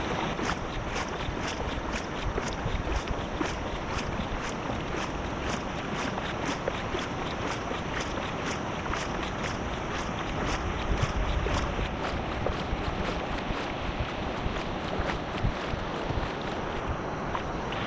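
Kayak paddling on the Kentucky River, with steady rhythmic paddle strokes and water swishes repeating about once a second, close and continuous under light wind noise, with no talking.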